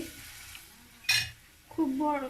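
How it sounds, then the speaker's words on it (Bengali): Sweet banana cakes (pitha) dropped into a frying pan, a sudden metallic clink followed by a short, loud sizzle of batter hitting hot oil, over a quiet kitchen background. "একইভাবে আমি আবার ফ্রাই প্যানে পিঠাগুলো দিচ্ছি।"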